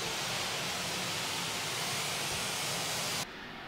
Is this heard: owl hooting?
no